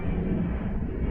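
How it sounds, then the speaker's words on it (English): Airplane passing overhead, a steady low broadband roar that holds loud and even throughout, with no other sounds on top. "an airplane is flying a little bit loud over here"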